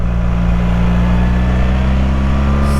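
A new BMW R1300 GS motorcycle engine drones steadily and loudly during running-in on the road, with strong low-pitched hum and rushing wind noise throughout.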